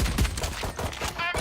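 Missiles launch in a shooter video game in a dense, loud volley of rapid blasts and crackling fire, with a faint voice in the mix.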